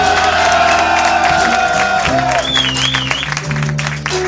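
A crowd at a live rap concert applauds and cheers loudly, with whoops and shouts over steady clapping, sustained throughout.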